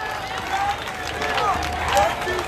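Crowd clapping and cheering for an honorable guest at a public event with the President of Liberia, dense continuous applause mixed with crowd babble and voices, moderately loud and close.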